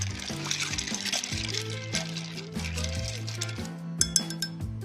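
Ice cubes clink and rattle against a glass as a cocktail is stirred, quick repeated clinks with faint liquid swishing and a few sharper knocks near the end.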